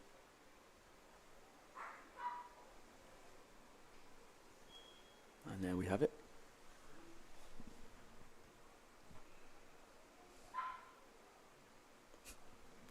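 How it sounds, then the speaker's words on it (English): A dog barks a few times from the stands at an outdoor pool during a junior springboard diving competition, short muffled yelps set far off against quiet ambient noise, with brief talk in between. "I think we have a dog making a bit of noise."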